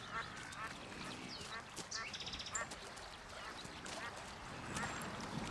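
Shelduck calling on the steppe, with repeated nasal quacking and honking calls among other distant birds. The calls are moderately near and come in scattered bursts over a steady outdoor background.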